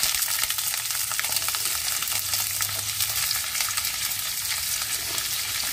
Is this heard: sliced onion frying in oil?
yes